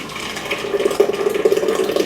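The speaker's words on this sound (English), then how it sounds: "take my Ninja blender and I'm going to go ahead and I'm going to pour this in" Blended almond milk poured from a Ninja blender jar into a nut milk bag, a steady close liquid stream with gurgling splashes that grow slightly louder midway, no talk.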